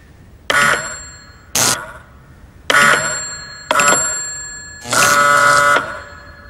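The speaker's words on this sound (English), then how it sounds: "So if I push the button on this end, it sets off the bell at the receiver." An electric bell set off by a wireless radio receiver with no wires to the push button rings in five separate bursts, loud and close, the last burst the longest, with no talking.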